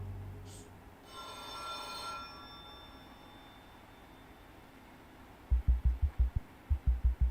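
A telephone rings in the game No Longer Home: a brief, bright ringing burst early on over a low ambient hum, followed by a series of loud, rhythmic low thumps near the end.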